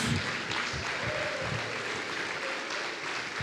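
Church congregation clapping during a bilingual Spanish-Portuguese missions service, a broad steady wash of applause, fairly faint and distant, with no speech over it.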